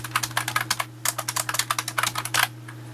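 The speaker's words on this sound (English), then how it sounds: "just type in what I want the caption to be" Fingers typing on a computer keyboard in quick, uneven bursts of close clicky keystrokes with a short pause midway, over a faint steady electrical hum, no talking.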